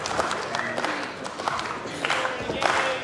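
A live Ring of Honor women's wrestling crowd grows louder during a four-way match, with scattered clapping and rising cheers forming a dense, continuous roar in the arena.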